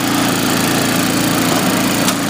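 An MTD snowblower engine runs steadily at close range, a loud, even mechanical drone with rapid rhythmic pulsing and no break across the short stretch.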